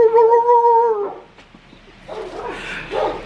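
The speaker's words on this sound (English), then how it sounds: "The dogs are barking." Dogs barking outdoors on a windy street in a neighbourhood, with a long whining or howling tone at first and then scattered yips and barks further off, mixed with wind noise.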